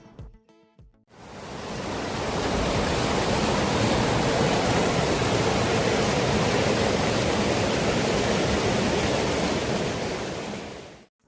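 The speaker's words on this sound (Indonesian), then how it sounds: "Suara aliran sungainya itu sangat menenangkan banget." River water flows steadily at Pendopo Ciherang in Bogor, a dense, even rush of current that swells in after a brief pause and holds loud and unbroken, close by, with no talk over it.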